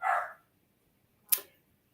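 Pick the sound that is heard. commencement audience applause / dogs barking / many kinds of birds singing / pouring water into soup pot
dogs barking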